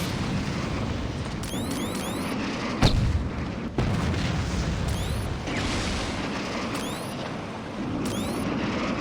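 Rocket explosions and booming gunfire in the video game Saints Row, one sharp blast near the three-second mark over a continuous dense, noisy battle din with repeated electronic chirps.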